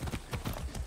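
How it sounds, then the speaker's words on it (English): Hooves of a horse in the video game Far Cry 6 clip-clop in a quick, steady run of close, soft beats lasting under a second, with no talking. "Hey, horse, ready to go?"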